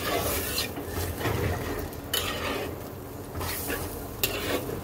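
Vegetables frying in a pan after a little water is added, stirred with steady scraping and rubbing strokes over a close, continuous sizzle, with no one speaking.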